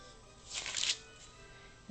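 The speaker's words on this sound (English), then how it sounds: "this parchment paper is going to drive me crazy" Parchment paper crinkles and rustles in a short burst while shortbread cookie dough is being wrapped in a kitchen, fairly quiet against a steady room hiss.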